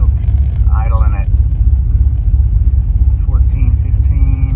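A carbureted LS-swapped OBS truck engine idles with a deep, steady low rumble during carburetor tuning, close and loud, while people talk over it.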